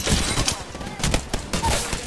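Rapid gunfire bursts in the video game Apex Legends, several sharp cracks in quick succession under a dense, noisy game mix, fairly loud and close.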